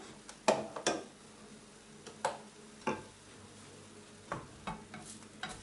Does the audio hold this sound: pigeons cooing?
no